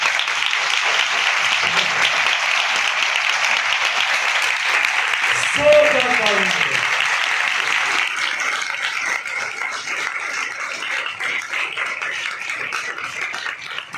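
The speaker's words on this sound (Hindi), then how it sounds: "आए यीशु मसीह के लिए जोरदार ताली।" A church congregation claps loudly for Jesus Christ, a dense, steady roar of applause that keeps going for the whole stretch and thins slightly toward the end, with a voice briefly audible partway through.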